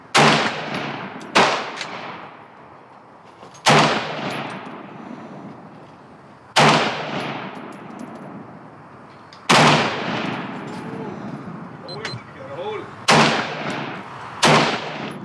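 A Ruger AR556 AR-15 rifle fires at a target 50 yards out, sending loud, sharp cracks at irregular intervals, seven in all, some in quick pairs. Each blast leaves a ringing outdoor echo that decays before the next.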